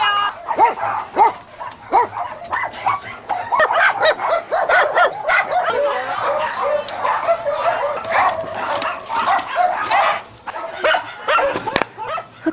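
Puppies at an animal shelter bark and yip repeatedly in a busy, overlapping chorus, fairly close and loud, with some whimpering mixed in and faint background voices.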